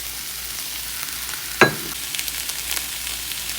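Vegetables and black beans sauté in a pan with a steady soft sizzle, broken by one sharp clink of a utensil and light stirring scrapes.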